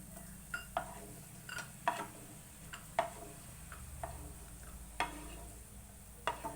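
A moong dal mixture is stirred and roasted in a pan, with a quiet bed of sizzling broken by intermittent scraping clinks of a spoon against the pan every second or so.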